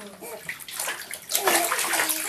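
Water sloshes and pours over a young child being rinsed in a bathtub, a steady wash of splashing that swells louder in the second half, with adult speech mixed in.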